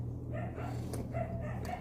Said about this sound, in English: The dogs are barking on the mountain behind us, and it comes up the wall into my house.